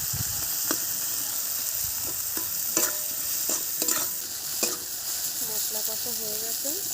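A spice paste of onion, chili powder, green chilies and tomato fries and is stirred in a pan, giving a constant close sizzle with repeated scraping strokes and a brief tonal sound near the end.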